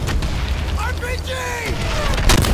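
A rocket-propelled grenade blast from a Call of Duty battle, a loud rumbling boom mixed with shouting and whistling noise, all close and dense for a couple of seconds.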